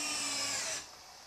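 A power drill drives a screw into wall sheathing during house framing, a short whirring burst that stops abruptly after under a second, leaving quiet room tone.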